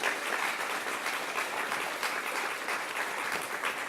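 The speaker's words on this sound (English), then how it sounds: "how about a round of applause for Amanda?" Steady, dense applause from an audience at a police and community awards ceremony, a continuous wash of many hands clapping at moderate volume with no voices over it.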